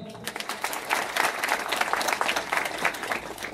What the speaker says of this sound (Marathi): मला प्रत्येक कंपनी मागे एक टाळ्यांचा मोठ्या आवाज पाहिजे